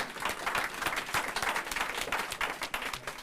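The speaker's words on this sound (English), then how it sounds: "A round of applause for them." An audience at an annual general meeting gives a short burst of lively applause, dense overlapping clapping throughout a few seconds.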